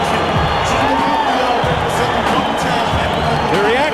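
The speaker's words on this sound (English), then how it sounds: "mostly applause and cheering" Arena crowd at a boxing event applauding and cheering for Mike Tyson, a dense roar with whoops and whistles under an announcer's voice.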